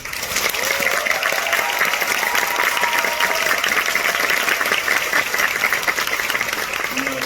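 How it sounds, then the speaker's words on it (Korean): A theatre audience gives a big round of applause at the curtain call of the musical Mata Hari, dense sustained clapping from a large crowd with a few voices mixed in. "그래서 그러니까 큰 박수 한 번만."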